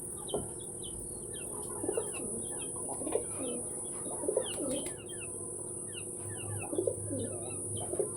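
Pet pigeons in a loft coo in soft repeated low phrases a few seconds apart, mixed with light chirps and bird chatter against a faint steady hum.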